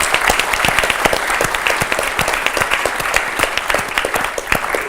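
A conference audience gives loud, sustained applause for three research award winners. Dense, steady clapping fills the whole stretch from start to finish.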